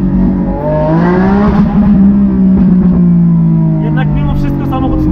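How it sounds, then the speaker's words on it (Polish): Lamborghini Aventador S Roadster engine revving loud and close, the pitch climbing and holding in a strong throaty roar over several seconds with slight wavering as it accelerates. "samochód traci przyczepność przy lekkim dodaniu pedału gazu"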